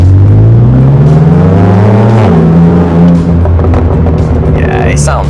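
A BMW M2 Competition's aftermarket exhaust roars as the engine climbs through the revs in a strong acceleration pull, loud and close, then eases off.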